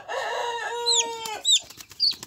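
A young chick, about a week old, peeps while held in the hand, giving a drawn-out trilling call and then shorter high chirps, loud and close with no talking.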